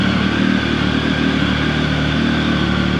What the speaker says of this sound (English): Still got high idle going.